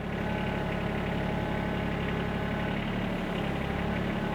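A tractor engine idles steadily at a construction site where a cabin addition is being framed, a continuous low mechanical rumble with a faint shift in tone near the end and no talk.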